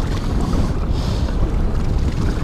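Steady wind roars across open water on a boat while trolling for muskies during a fishing tournament, a loud continuous rush with microphone buffeting and no voices.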